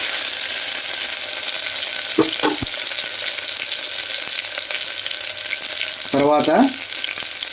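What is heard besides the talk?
ginger garlic paste frying in a pan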